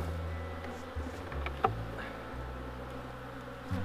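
Honeybees buzz around an opened beehive during a January inspection, a low droning hum that shifts in pitch as bees fly close, with a faint click or two and no talking.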